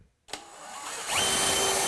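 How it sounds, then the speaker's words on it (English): A power drill pre-drills a hole near a kitchen counter, starting abruptly after a moment of silence with a whirring motor that climbs louder as the bit bites into the material. "I'm just going to pre-drill a hole off the counter near the top where I'm going to set my"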